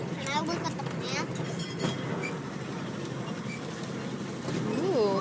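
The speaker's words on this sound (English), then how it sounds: "The train." A train rumbles along its rails during a ride, a steady low roll with faint clatter and a brief squeal near the end, while children and adults talk over it.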